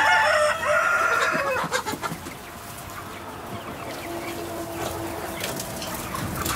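A backyard flock of spotted heritage chooks clucking and calling, with a loud squawk early on, then a steady mix of softer clucks and farmyard chatter nearby.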